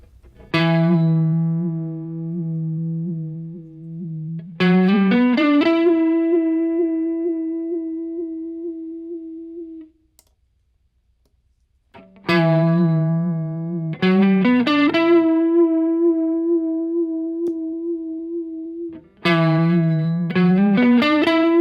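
A guitar holds a sustained static note through a Strymon UltraViolet vibrato pedal, repeated several times with wavering pitch as the bias settings change, each note plucked then slowly decaying with pauses between.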